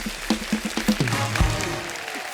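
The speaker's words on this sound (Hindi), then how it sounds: "इनके लिए जोरदार तालियां हो जाएं" Applause from a comedy talk-show studio audience, a dense steady wash of clapping that holds at an even level for a couple of seconds, with a brief low thud partway through.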